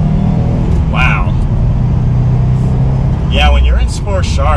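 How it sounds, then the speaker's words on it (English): A 2021 Subaru WRX STI Limited engine revs under partial throttle in sport sharp mode on a test drive, a loud, steady, deep rumble running throughout while someone talks over it. "I'm only half throttling it, and you can tell there's some meat in this engine"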